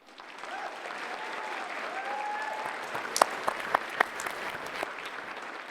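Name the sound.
applause for the graduating class at commencement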